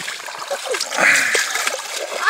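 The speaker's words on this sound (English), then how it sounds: "Just rinse a little water in his face." Water splashes onto an 8-month-old baby's face in a Delta waterway, a few close, soft splashing bursts with trickling and an adult's voice talking over them.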